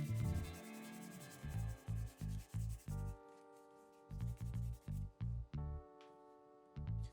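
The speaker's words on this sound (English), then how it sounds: "rubbing canvas into Columbus wax and applying on the edge" Canvas loaded with Columbus wax is rubbed along a leather edge in quick rhythmic back-and-forth strokes, two runs of about five strokes each, close and soft over a faint tonal background.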